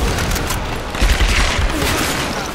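Dense, continuous gunfire in the Tomb Raider video game, loud and rumbling with overlapping shots and booms and no clear gaps, filling the whole moment.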